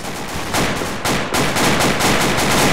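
Rapid bursts of automatic gunfire in a combat video game, loud and close, the shots coming in dense overlapping volleys with brief gaps between strings of fire.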